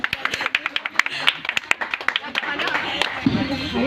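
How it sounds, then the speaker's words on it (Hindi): Audience clapping at a children's stage performance, a run of distinct rhythmic handclaps building into a brief, denser round of applause, with a voice speaking near the end. "एक बार जोरदार तालियां।"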